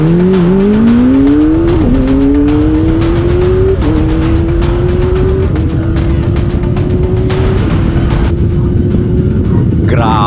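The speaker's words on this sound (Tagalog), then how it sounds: "test drive na natin ang screamer sound ng Kawasaki." A Kawasaki ZX25R inline-four motorcycle screams loudly on a roadside test ride, its high-pitched engine note climbing through several gear changes with brief dips between them and steady wind and road roar underneath.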